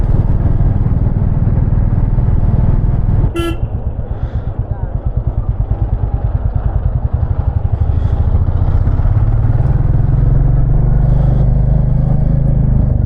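A 2025 Royal Enfield Classic 350 motorcycle engine rumbles steadily at close range while riding at night, with a brief sharp click and rhythmic clattering as it rides along.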